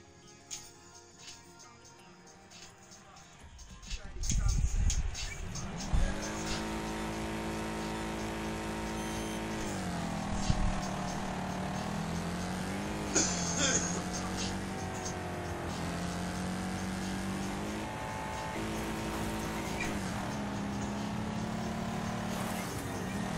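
Hot Wheels video game cars racing around a track, engine whines rising and falling in pitch as they accelerate and shift, with a brief burst of crashing noise early on and continuous revving after.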